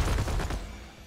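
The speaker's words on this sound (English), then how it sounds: "Have some of them grenades." Grenade explosions from the Jumanji video game, a loud burst of blasts and crackling gunfire-like booms in the first half that fade into a softer, lingering rumble.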